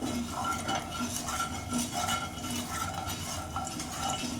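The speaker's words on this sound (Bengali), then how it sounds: "চিনিটা গলে যাবে ভালোভাবে একটু নেড়ে চেড়ে নিলে।" A utensil stirs sugar in a pan for Bengali rui fish curry, giving a continuous close scraping and rustling with faint clinks of metal against the pan.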